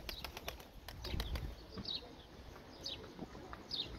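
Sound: bird taking off, wings flapping

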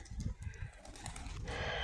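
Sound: white pigeons cooing

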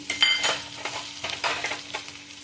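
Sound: small onion frying in a pan

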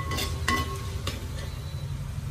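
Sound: frying and stirring fish curry masala in pan

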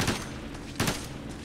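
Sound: gunfire in the video game Ghost Recon Advanced Warfighter 2

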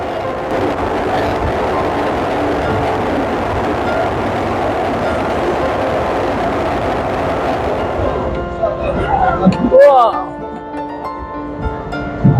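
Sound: train running on the Banihal line in Kashmir

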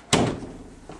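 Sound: bathroom door slamming shut

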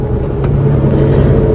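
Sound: Mitsubishi Triton diesel engine heard inside cabin while driving

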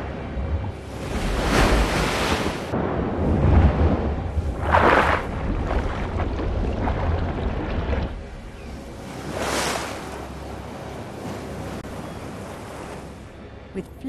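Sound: ocean waves breaking on the beach

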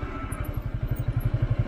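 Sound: motorbike passing on off-road track

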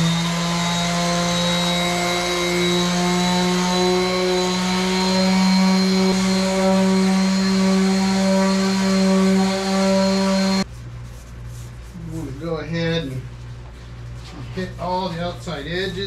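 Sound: sanding a walnut table with 220 grit sandpaper

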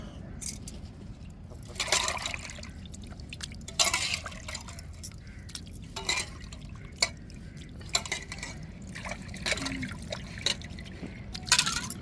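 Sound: rinsing peeled prawns in water

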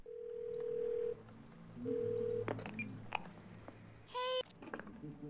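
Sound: phone dialing tones in Twelve Minutes video game

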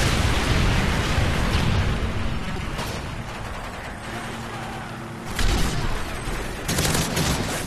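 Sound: Predator missile strike and gunfire in video game Call of Duty: Modern Warfare 3

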